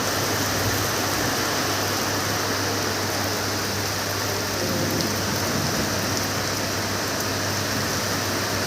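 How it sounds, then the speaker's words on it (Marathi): Heavy, steady unseasonal rain pours down without pause, a dense hiss filling the whole stretch with no voices. "लय मोठा पाऊस यायला लागला"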